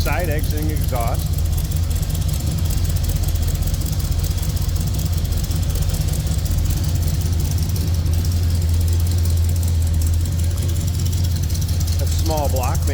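A 1948 Ford Super Deluxe small block engine idles through side-exiting exhaust with a steady low rumble close by, running continuously under brief faint talk at the start and end.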